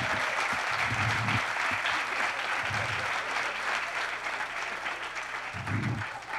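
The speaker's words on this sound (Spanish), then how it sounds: "Aplausos para J Balvin" Audience applause for J Balvin in a television talk show studio, a loud, steady wash of clapping lasting several seconds, with low bursts of cheering or shouts now and then underneath.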